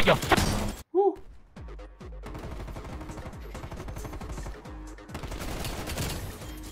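Rapid automatic gunfire rattles in bursts during a Call of Duty: Black Ops Cold War match, close and dense, with a short gap early on before the firing resumes, and a player's voice briefly heard among the shots.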